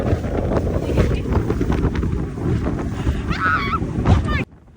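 Heavy wind buffets a boat speeding across a lake on a bumpy run to a smallmouth bass fishing spot, a steady loud rushing roar with brief faint high squeaks near the end before it cuts out.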